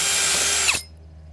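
A power drill fitted with a wood bit runs loudly through an exterior door threshold, then winds down and stops, leaving near silence.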